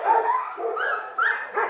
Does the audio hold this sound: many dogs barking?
yes